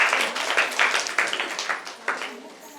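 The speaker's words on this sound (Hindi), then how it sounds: "जोरदार तालियां।" An audience at a quiz in a Buddhist vihara in Dongargarh, Chhattisgarh, claps after a correct answer, a burst of rhythmic hand claps that swells and fades in waves for a few seconds, with some voices mixed in.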